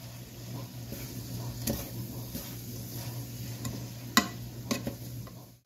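Fresh diced garlic stirred through vegetables in a pan makes a low, steady sizzle over a constant hum, with a few sharp spoon or spatula clicks against the pan.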